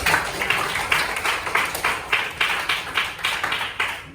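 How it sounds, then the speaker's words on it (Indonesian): Students in a classroom clap in a steady rhythmic pattern of sharp, evenly spaced bursts, close and fairly loud, with no talk over them. "Oke nak, berikan tepuk tangan."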